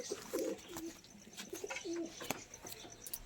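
Regdar pigeons give a few short, close throaty coos amid faint scattered chirps and light clicks, with no talking.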